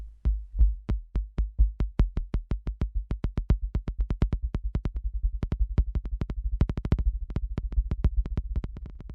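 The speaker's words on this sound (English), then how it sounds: "last week's beat will sound like this" A steady low thumping beat pulses rapidly and evenly, each thud decaying quickly, the pace holding constant and fast throughout with no voices.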